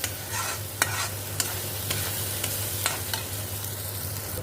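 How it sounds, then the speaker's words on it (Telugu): Onion masala fries in oil for a spinach chicken curry. A soft, steady sizzle runs underneath, broken by several sharp scrapes and taps of a spoon as it is stirred in the pan, and no one speaks. "ఇది చాలా ఫ్రై కావాలి ఇట్లా దీని మీద ఆయిల్ మంచిగా తేలాలి"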